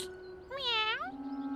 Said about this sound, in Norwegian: Det er bare en vanlig katte.